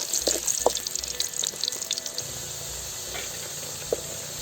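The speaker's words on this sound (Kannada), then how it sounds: "ಆಲೂಗೆಡ್ಡೆನ ಫ್ರೈ ಮಾಡ್ಕೋಬೇಕು." Potato pieces fry in oil for a dryfish potato curry, giving a steady close sizzle and hiss with a few faint pops and clinks and no voices.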